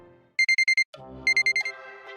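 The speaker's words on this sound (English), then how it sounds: "The alarm clock on my desk had gone off." A desk alarm clock goes off in two quick bursts of four or five sharp electronic beeps, loud and close, separated by a short low tonal passage.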